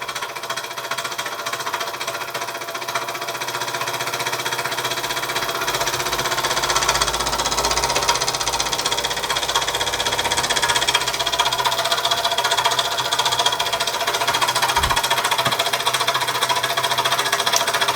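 Mamod Minor 2 model steam engine running under steam, slightly canted off level, with a fast steady mechanical chatter and hum that holds continuously and grows a little fuller after the first few seconds, close and alone.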